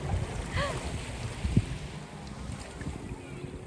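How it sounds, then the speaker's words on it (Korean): A jet ski rides on the open sea, its engine a faint, distant drone buried in steady wind and microphone buffeting, with no talking. "와 바다에서 오토바이 타네"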